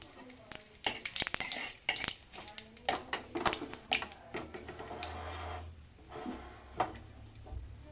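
Potatoes frying in a pan with bay leaf and cumin, faint sizzling under sharp clinks and scrapes of a utensil stirring against the pan, with a voice talking at times.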